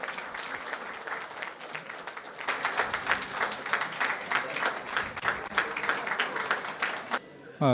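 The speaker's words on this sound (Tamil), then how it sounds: "நல்ல ஒரு பலமான கைத்தட்டல் கொடுக்கலாம் ladies and gentlemen" An audience at a book release ceremony breaks into applause, starting softly and swelling into sustained, dense clapping before cutting off near the end.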